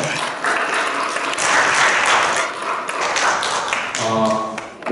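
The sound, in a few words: church congregation applauding the students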